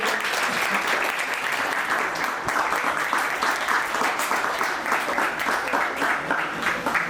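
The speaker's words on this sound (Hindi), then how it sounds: "जोरदार तालियों से आप स्वागत कीजिए" A hall full of people claps warmly to welcome the chief guest at a book launch and water discussion event, a thick, even roar of applause holding steady from start to finish.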